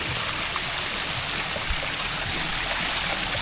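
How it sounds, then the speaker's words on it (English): Clean spring water flows out of the top of a mountain as a steady, hissing stream, continuous and close with no talking. "Some sort of aquifer coming out of the top of the mountain there."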